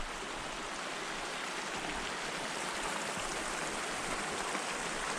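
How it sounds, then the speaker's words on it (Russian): A small river at the Sipoholon hot spring in North Sumatra, Indonesia, flows with a constant rushing, bubbling wash of water, steady and fairly close, with no voices. "Речка вот такая."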